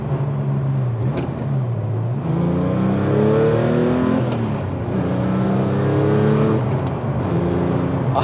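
A Paul Stephens Porsche 911 Clubsport at Le Mans Classic, heard from inside, its engine revving loud and close and climbing through the gears in repeated rising sweeps with brief drops between shifts.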